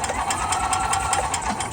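The engine of a gas golf cart runs in a steady, close, buzzing drone with a fast, even pulse throughout, and no voices can be heard.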